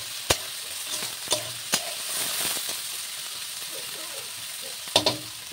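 Vegetables frying in a pan for veg dal give a steady, fairly loud sizzle, broken by a few sharp stirring clacks near the start and end.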